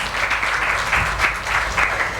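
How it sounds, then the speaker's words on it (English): An audience at an awards evening claps for a woman invited to give welcome remarks, a moderate steady patter of many hands with slight swells, moderately close. "A big hand clap for Cynthia."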